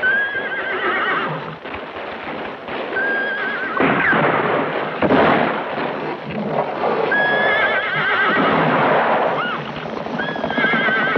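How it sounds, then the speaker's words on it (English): Several horses neigh and whinny loudly over a steady rumble of galloping hooves, the calls rising and falling repeatedly. "Ramon, Jose, let the horses out of the barn."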